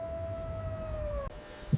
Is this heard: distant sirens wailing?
yes